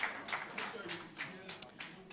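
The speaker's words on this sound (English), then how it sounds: "Please, a round of applause for him as he joins us on stage." Scattered hand clapping rises from an audience at an NGX-BOI finance workshop as a guest joins the stage, with sharp, uneven claps under ongoing voices.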